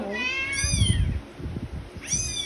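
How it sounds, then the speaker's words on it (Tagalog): A cat meows twice, close and clear: one long drawn-out cry, then a shorter one after a pause, over low rumbling background noise. "Pusa yan o pusa. Pusa o pusa."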